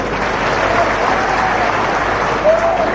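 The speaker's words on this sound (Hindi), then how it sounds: "एक बार भैया के लिए तालियां बजाएं" A crowd claps steadily in dense, sustained applause, loud and even throughout with no pauses.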